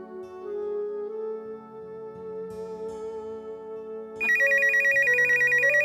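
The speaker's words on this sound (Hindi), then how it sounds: "अरे देखो किसका टेलीफोन है।" A telephone rings with a steady electronic tone that jumps to a louder, brighter pattern partway through, with no voices.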